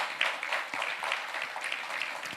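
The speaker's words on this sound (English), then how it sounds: "Please give them a round of applause" A fintech challenge semi-final audience claps for its partner organisations, a moderate, even patter of many hands heard from a slight distance.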